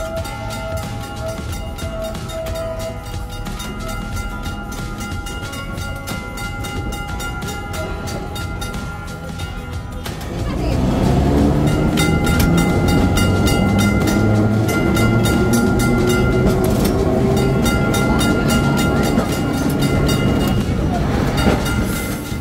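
A Kolkata heritage tram with air brakes pulls out of the Shyambazar depot and runs on street rails, a rumbling ride that swells louder about halfway through, with a steady clatter and rattle around the car.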